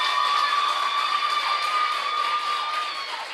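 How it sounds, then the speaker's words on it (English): A crowd of children cheering and shouting loudly for a teacher at a public service expo, a sustained chorus of high voices that fades slightly at the end. "Let me give you a big round of applause for being an excellent teacher"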